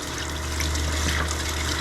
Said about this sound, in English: Put a little water on this thing.